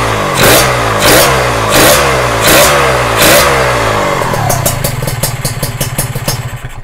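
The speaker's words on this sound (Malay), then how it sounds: "kalau dengar enjin dia senyap bunyi senyap lah" A freshly rebuilt RR 150 motorcycle with a new engine block and head revs in about five loud, close throttle blips, then drops to a rapid, clattering idle.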